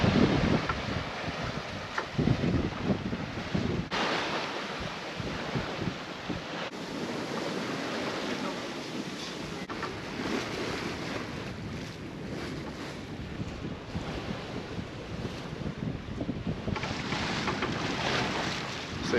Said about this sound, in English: We are no longer motoring. We are sailing under a reefed main and a partially furled Genoa.